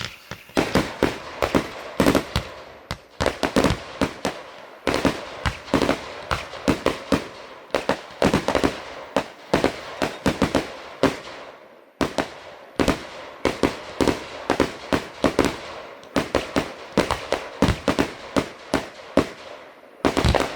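A trailer full of fireworks fired all at once in a long barrage of sharp bangs and crackling bursts, dense and loud with brief gaps, continuing for about twenty seconds.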